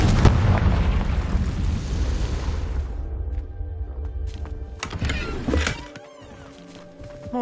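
Confringo blasting curse explosion in the Hogwarts Legacy video game, a loud booming blast with rumbling debris that fades over several seconds, followed by lighter clatter and a late burst.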